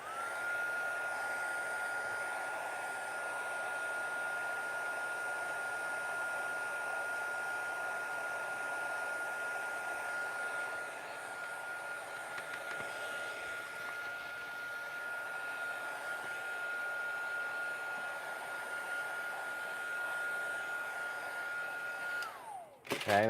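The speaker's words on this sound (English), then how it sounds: "And then we're gonna come back with the heat set so we can dry this off." Heat tool drying ink on a crafted card during a live session, a continuous steady whirring blow with a thin high whine that holds for over twenty seconds, then cuts off with a brief clatter at the end.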